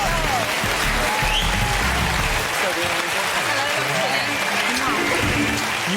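A television studio audience applauds celebrity guests on a comedy quiz show, steady clapping throughout with music and voices mixed underneath.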